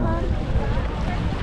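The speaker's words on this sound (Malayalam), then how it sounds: "ഈ വരുന്നതാണോ നമ്മുടെ ബോട്ട്" A boat draws near across open blue lagoon water off an island, a dense rumbling wash of engine and water churn mixed with heavy wind buffeting the microphone, continuous and fairly loud.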